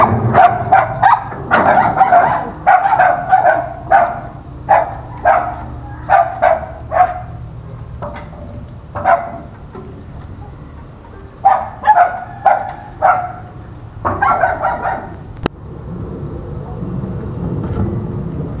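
Several dogs bark repeatedly in bursts, fairly close and loud, with brief pauses between volleys and a low background rumble.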